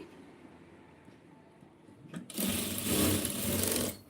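A sewing machine stitching a garment during tailoring; after a quiet start, a loud, steady motor whir runs continuously through the second half.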